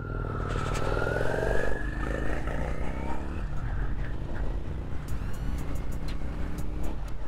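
A 1997 Honda Steed 400 cruiser motorcycle being ridden through the gears, its engine note rising in pitch, dropping at a shift and climbing again, heard steadily and fairly close with wind rush.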